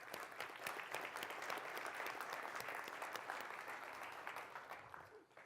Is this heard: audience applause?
yes